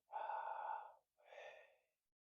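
A single deep breath: a long, close inhale followed by a shorter exhale, soft and airy in a quiet room.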